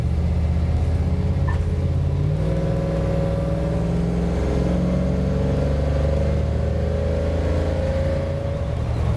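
A classic Ford Bronco cruising on a highway, heard from inside as a loud, steady engine drone and road rumble with no break and no voices.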